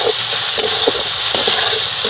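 Sauce for pasta hisses and sizzles steadily in a hot pan, a close, loud frying sound with faint clinks and no speech.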